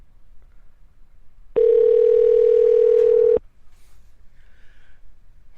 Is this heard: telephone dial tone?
yes